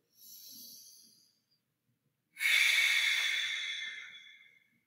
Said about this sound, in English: We'll take five breaths here.